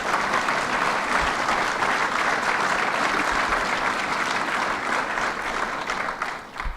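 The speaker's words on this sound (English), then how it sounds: "Give him a round of applause" Steady, dense audience applause at Governor Cuomo's Buffalo event welcoming the new head of ESD, a sustained crowd of clapping hands that holds evenly and tapers slightly at the end.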